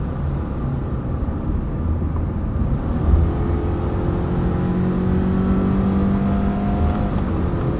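A 2024 Subaru Crosstrek Premium engine easing off throttle while driving, giving a steady low drone with road and tyre roar that holds evenly throughout, with no voices.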